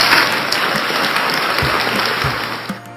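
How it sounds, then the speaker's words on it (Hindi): Applause greets listeners at the opening of a Hindu devotional recitation of the Satyanarayan vrat katha, a steady hissing wash of clapping, fairly loud and continuous for about three seconds with a few low thumps near the end. "आप सभी का हमारे चैनल पर तालियों के साथ में स्वागत करती हूँ।"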